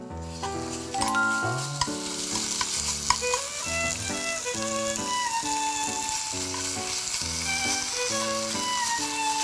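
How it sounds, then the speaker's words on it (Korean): Marinated meat stir-frying in a frying pan, a steady bright sizzle close by, with background music playing throughout and no speech. "그러면 제가 한번 프라이팬에 가서 볶아 볼게요."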